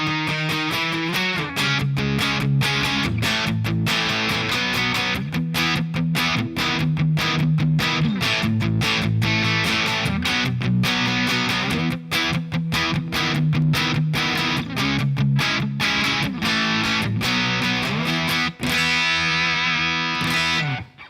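Electric guitar through a Line 6 Helix overdrive model, heavily overdriven, playing a continuous riff of dense, crunchy chords, loud and close, with a brief ringing sustain at the end.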